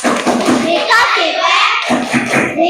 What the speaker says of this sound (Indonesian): Untuk kelompok 1, kasih tepuk wow.